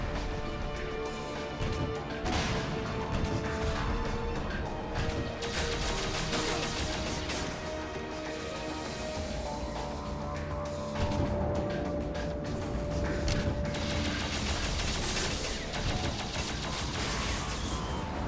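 Repeated explosive grenade launcher blasts and crashing impacts from the Shadowgrounds video game, loud and dense over a continuous game soundtrack, with no voices.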